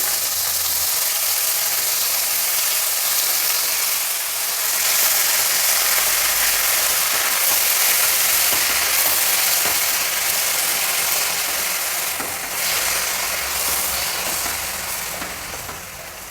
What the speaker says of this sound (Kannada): ಈಗ ಹಚ್ಚಿಟ್ಕೊಂಡಿರೋ ಪಾಲಕ್ ಸೊಪ್ಪನ್ನ ಇದರಲ್ಲಿ ಸೇರಿಸ್ತಾ ಇದ್ದೀನಿ ಒಗ್ಗರಣೆಯಲ್ಲಿ